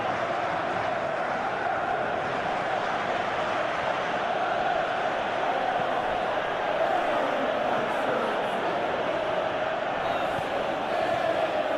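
Crowd noise from a football video game featuring a Chelsea versus Barcelona Champions League match: a steady, dense stadium roar of cheering that holds at an even level throughout, with no clear pauses.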